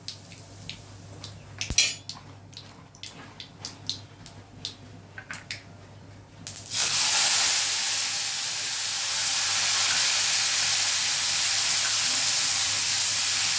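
Mustard seeds, fenugreek and cumin hit hot oil for a tempering, bursting into a loud, steady sizzle after several light clinks of a utensil against a pot.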